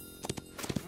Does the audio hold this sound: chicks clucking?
no